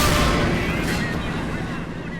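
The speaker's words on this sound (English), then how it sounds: "Who the hell shot at us?" A heavy boom from an artillery shell or gunshot in the Men of War: Assault Squad game near the 1941 Barbarossa Soviet defense line, loud at the start and then a long rumbling decay.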